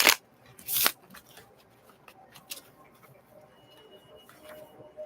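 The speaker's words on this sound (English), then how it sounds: "Third shuffle before I meditate." Tarot cards being shuffled by hand: two loud riffling bursts at the start, then softer scattered flicks and taps of cards, close and quiet between bursts.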